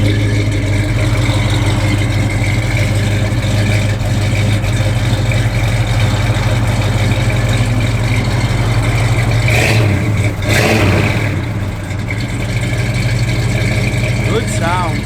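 A 1969 Chevrolet Chevelle SS engine idles loudly and steadily up close, with a brief rev partway through, while people talk over it.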